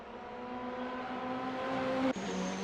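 Ferrari race cars battling at Imola in Assetto Corsa, a sustained high engine whine climbing steadily before a sharp upshift drops the pitch, loud and close with no talk.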